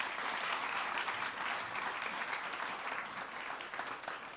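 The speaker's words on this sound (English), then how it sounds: "This is your applause." Sustained applause from a conference audience at a plenary session on inflation, steady dense clapping filling the room for several seconds with no talk over it.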